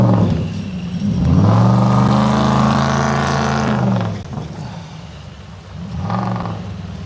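A rally car drives a stage of the Cliffhanger rally, engine loud and close as it revs and climbs through gears, then eases off and picks up again, with no talk over it.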